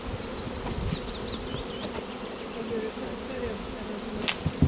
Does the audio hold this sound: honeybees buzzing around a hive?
yes